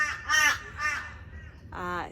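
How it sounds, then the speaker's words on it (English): A crow caws three times, harsh and close, the first two calls coming in quick succession and the third after a short pause, over faint background noise. "Crow."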